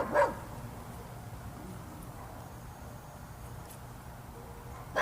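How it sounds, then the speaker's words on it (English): Dogs in a house bark in two short, somewhat distant bursts, one at the start and one at the end, with quiet outdoor background between. "Sarge and Lux in their house are barking."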